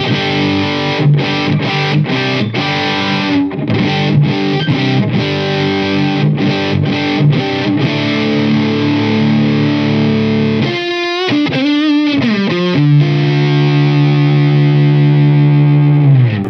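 An Ibanez Paul Gilbert FRM300 electric guitar heavily distorted, played through its middle pickup and then the bridge and neck pickups, with choppy palm-muted chugs giving way to bends and a long sustained chord ringing out.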